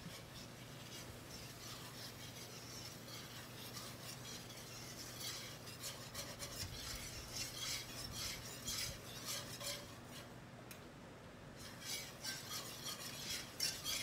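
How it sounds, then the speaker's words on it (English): Melted butter mixture stirred in a pan for mac and cheese, a steady soft scraping and rubbing of a utensil against the pan running throughout at close range with no talk. "So this butter is melted, and then equal parts. And then I'm just going to mix it."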